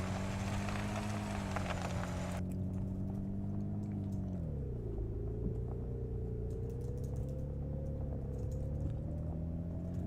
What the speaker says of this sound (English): rumble of the tires on the ground